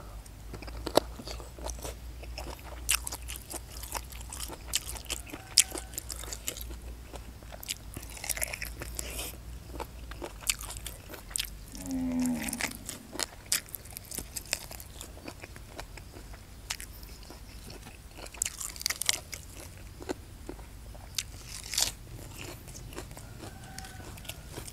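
Someone eats a crunchy, spicy Thai chicken-feet salad in big mouthfuls, with repeated close, loud bites and crunchy chewing throughout and no speech.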